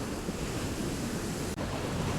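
Ocean surf at Nusa Penida island, Bali, a steady broadband wash of breaking waves close by with wind buffeting the microphone, one brief dropout near the end, no voices.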